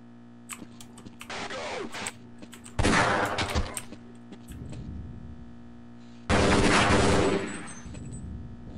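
Bursts of gunfire in the video game Half-Life: Blue Shift crackle in short rapid volleys, with a couple of louder sustained bursts over a steady low background hum.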